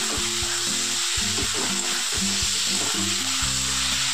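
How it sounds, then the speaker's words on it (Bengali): Ginger garlic paste fries in hot oil with a continuous close hiss and sizzle, while rhythmic pan scraping and stirring knocks repeat throughout. "আদা রসুন বাটাটা দিয়ে একটু কষিয়ে নেব যতক্ষণ না কাঁচা গন্ধটা চলে যায়।"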